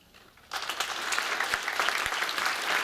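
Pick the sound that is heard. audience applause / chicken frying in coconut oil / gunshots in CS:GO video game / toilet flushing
audience applause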